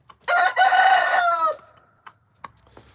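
A rooster at an animal sanctuary crows one loud, drawn-out call close by, followed by a few scattered soft clucks and faint bird noises in the quiet afterward.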